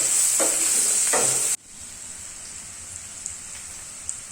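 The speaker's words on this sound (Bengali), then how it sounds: "এবার ভালো করে পেঁয়াজটাকে একটু হালকা ব্রাউন করে ভেজে নিতে হবে।" Chopped onion sizzles in hot oil in a kadai pan while it is stirred for kadai paneer; a loud hissing fry with a couple of scraping stirs, then the sizzle drops to a quieter, steady crackle.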